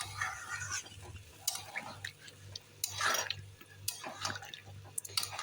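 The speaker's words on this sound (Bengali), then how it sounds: "এখন একটু কষানোর জন্য জল দিয়ে দিব কষিয়ে নিই" Water poured into chicken curry in a cooking pot, with soft stirring, splashes and drips, faint and close, over a low steady background hum.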